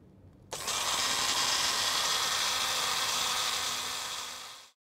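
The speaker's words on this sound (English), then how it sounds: "So I'm going to give this paste one last whiz." Electric grinder whizzing chimichurri paste to a smooth finish, a loud steady motor whir that starts abruptly, holds for about four seconds, then winds down and cuts off, with no voices.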